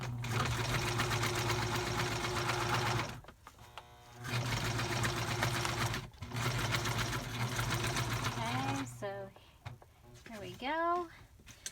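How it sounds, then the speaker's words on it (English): A sewing machine stitching a lace pocket, a rapid mechanical whir running in several bursts separated by short pauses, close by, with a person speaking near the end. "I'm just feeling much better about sewing it"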